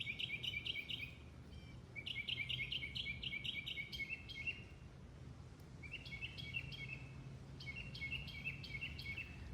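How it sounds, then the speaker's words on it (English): Birds sing and chirp after rain on rural Texas land, bright repeated phrases coming in bursts with short pauses, heard over a low steady hum of outdoor background noise. "There are so many birds out now."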